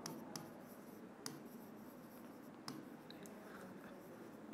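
Chalk or marker scratches in short strokes across a board during a Hindi economics lesson, with sharp taps between quiet scribbling, faint and close without speech.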